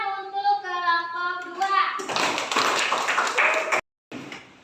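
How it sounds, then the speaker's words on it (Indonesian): A classroom of students claps together for a presenting group, a dense burst of clapping lasting a couple of seconds after a voice, then stopping abruptly. "Tepuk tangan untuk kelompok"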